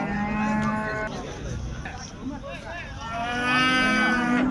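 Cattle at a livestock market moo loudly and close, several long drawn-out calls overlapping, with a busy market murmur beneath them.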